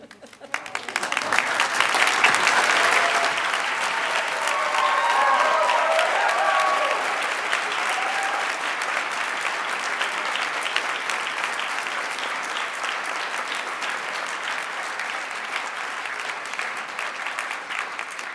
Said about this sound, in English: Well-deserved applause, no doubt.